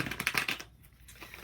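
Tarot cards being shuffled by hand during a reading, heard as quick, soft riffling and flicking bursts for about half a second, then a faint papery rustle, close and quiet with no talk.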